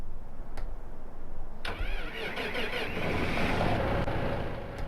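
A Massey Ferguson tractor engine in Farming Simulator 15 cranks and starts with a sharp onset, then settles into a steady mid-pitched idle that hums on without talk.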